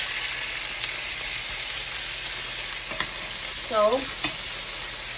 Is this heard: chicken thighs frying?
yes